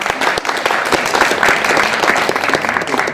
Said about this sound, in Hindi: आप लोग जोरदार ताली बजा के स्वागत करिए।